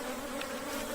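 Honeybees buzzing steadily from an opened hive in an apiary, a dense, continuous hum at close range with no talking over it.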